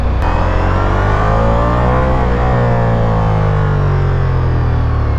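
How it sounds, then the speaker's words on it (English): A Ducati motorcycle engine runs loud and close while riding, a continuous throaty roar that shifts pitch slightly as it revs, with no talking over it. "I cannot get over how cool this bike sounds"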